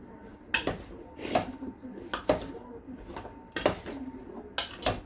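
A spoon stirs roasted vegetables in a dish, giving a series of sharp clinks and scrapes against the dish at an uneven pace, close up and fairly quiet, with faint room noise between strikes.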